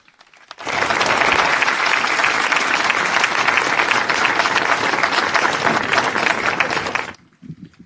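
Loud, dense audience applause at a municipal band concert, beginning abruptly and sustained for about six seconds before cutting off into quiet.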